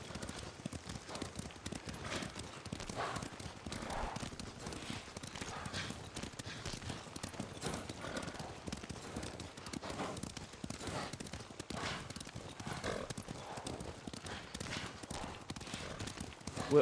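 Horses gallop in Ghost of Tsushima with a steady, quick clip-clop of hooves, faint and continuous under a dense wash of game ambience, with no talk.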